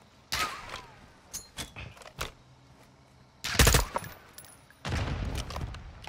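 Sniper rifle shots in a video game, several sharp cracks spaced irregularly, with one very loud close blast and a longer burst near the end, among quieter mechanical clicks and thuds and no talk.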